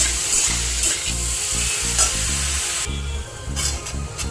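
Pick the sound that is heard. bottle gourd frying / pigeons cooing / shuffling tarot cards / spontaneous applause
bottle gourd frying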